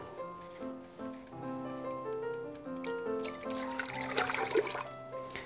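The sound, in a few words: water poured into a pan for canning syrup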